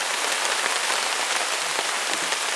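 Heavy rain pelts steadily onto a camping tarp during a thunderstorm at a car campsite in a state forest, a dense, close, continuous patter with no voices.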